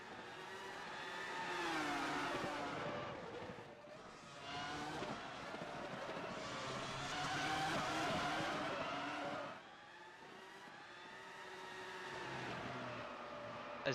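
Race cars in a racing video game set at a Spanish Grand Prix, engines revving and whining up and down through gear changes as several cars roar past close together, with a sustained loud engine drone and brief dips between passes.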